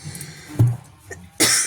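A woman coughs in a few short, close bursts, with a louder, harsher cough near the end and quiet room tone between them.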